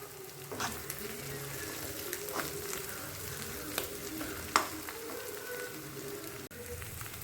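Fish roe frying in a pan with curry leaves tossed in, giving a faint, steady sizzle with scattered crackles and pops throughout, no talk.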